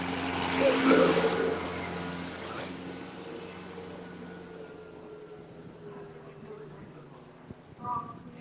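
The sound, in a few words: tractor driving by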